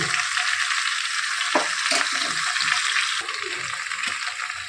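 Bottle gourd sizzles and fries in a pan while being stirred with salt and turmeric, a steady close hiss with scraping spatula strokes throughout, no talk.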